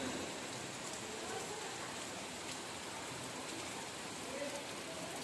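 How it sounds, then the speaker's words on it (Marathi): Heavy monsoon rain with hail pouring steadily in the Konkan, a dense, constant roar of drops on surfaces with no breaks, loud and close throughout. "बघा पावसाच्या सरी कशा बरसत आहेत।"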